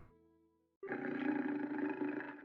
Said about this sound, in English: Growling voice.